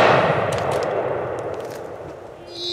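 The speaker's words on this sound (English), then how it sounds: "Now, let's get back to shooting." A blast from a smoothbore gun fired outdoors at a target, loud at the very start and then decaying into a long echoing tail with faint metallic rings.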